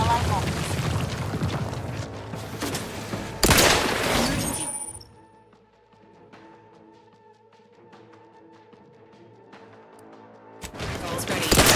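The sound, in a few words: rifle gunfire from a hostile in The Outer Worlds 2 video game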